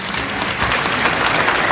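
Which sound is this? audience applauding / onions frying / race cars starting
audience applauding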